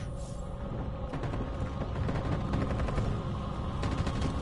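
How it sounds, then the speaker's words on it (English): Gunfire in the game Detroit: Become Human: a sustained barrage of rapid shots and impacts over a rumbling, busy game mix, continuous and fairly loud throughout. "They were gonna shoot us!"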